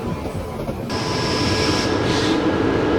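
A Jan Shatabdi Express train rolls through Dabhoi Junction, heard from inside a Vistadome glass coach as a steady rumble and clatter of the carriage with a high whine rising partway through.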